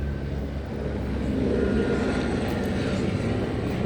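An LAPD helicopter passes overhead as a steady, loud low rotor and engine drone that swells slightly midway and holds without any voices.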